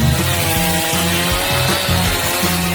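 A wooden board is sawn down to size with rapid, rhythmic back-and-forth strokes, the close, loud rasp repeating steadily without pause.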